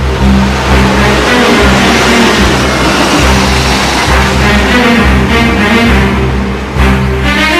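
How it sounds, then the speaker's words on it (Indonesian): A car engine roars loud and steady as the vehicle draws near and revs, filling the whole stretch with a continuous low rumble. Heard in an Indonesian TV drama, with no talking over it. "Itu pasti mobil Papa Vien"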